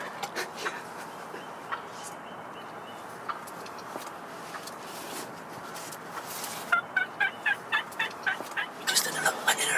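Wild turkeys gobble repeatedly in an outdoor hunting setting, a flock including big toms, jakes and bearded hens, with scattered calls early and a fast, loud burst of gobbling near the end.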